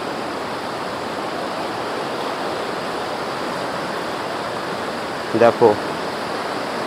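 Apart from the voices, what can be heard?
water stream flowing beside a jungle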